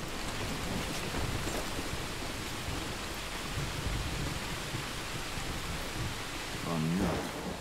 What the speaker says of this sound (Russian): Фига, дождина.